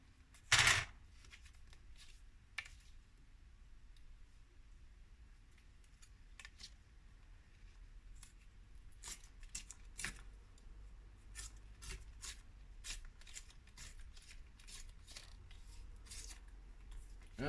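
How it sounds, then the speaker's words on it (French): Paper is torn by hand in short, sharp rips, one loud near the start and more scattered bursts later, over a quiet background without talk. "je fais du papier déchiré"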